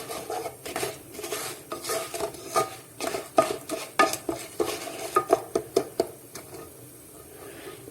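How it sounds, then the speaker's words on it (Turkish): Vermicelli toasting in oil in a pan is stirred with a spoon, giving a string of close, irregular scraping and clinking strikes over a faint sizzle, with no talking. "Böyle şehriyeleri güzel mis gibi kokusu çıkana kadar kavuruyorum."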